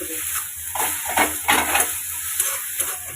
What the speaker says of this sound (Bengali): এখন পেঁয়াজ আর রসুনটা ভালো করে ভেজে নেবো